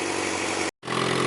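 A Suzuki GSX-R600 motorcycle fitted with a new loud exhaust gives two short, light revs, a sharp near buzz that cuts off briefly and then picks up again.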